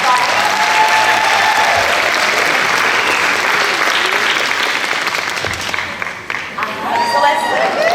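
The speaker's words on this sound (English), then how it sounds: "let's give them one more round of applause" A large audience at an event applauds in a full, steady round of clapping mixed with some cheering and crowd chatter, the ovation holding strong before thinning out near the end as voices rise through it.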